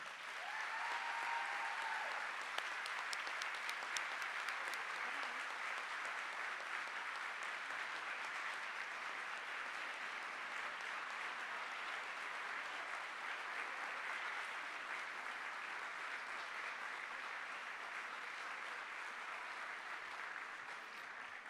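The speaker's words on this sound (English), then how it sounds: "let's give a round of applause to Victoria Glante." Sustained applause from a conference audience of school superintendents, steady and dense clapping throughout with no speech over it.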